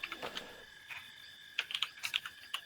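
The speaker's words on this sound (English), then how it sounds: "Or at least hear you typing." Typing on a computer keyboard close to the microphone, a quick irregular patter of light key clicks in two short bursts against a faint background hum.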